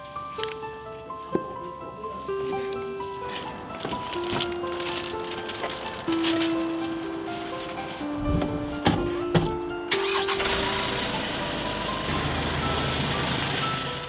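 A delivery truck sounds steady, repeated reversing beeps in a clear regular rhythm over continuous engine and road noise, with some clatter toward the end.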